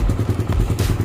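A 2022 carbureted Suzuki Raider 150 motorcycle idles cold, its close, loud engine pulsing in a fast even rhythm with a light metallic ticking from the timing chain.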